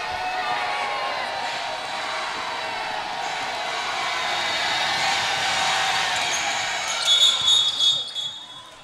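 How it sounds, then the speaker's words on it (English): Bronx crowd roaring at a college basketball game, UTPA against Idaho, a broad sustained roar that swells near the end with sharper cheering bursts. "The Bronx crowd is roaring"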